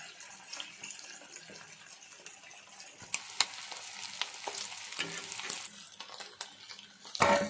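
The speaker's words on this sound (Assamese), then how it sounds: "মোৰ মাছ ভজা হৈ গ'ল" Fish frying in hot mustard oil in a pan, a steady close sizzle with occasional sharper crackles and stirring clatter, no talk.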